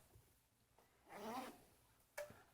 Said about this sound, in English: Go ahead and shut your zipper.